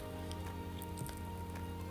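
Rain falls steadily outdoors at the Osaka World Expo, a dense even patter with occasional sharper drops close by.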